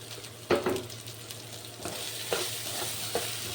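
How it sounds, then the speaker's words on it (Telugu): Carrot pieces seasoned with salt and turmeric fry in a pan as they are stirred, a steady sizzle running under a few sharp scrapes of the spatula, close and fairly quiet. "మాడిపోకుండా కలుపుకోవాలి"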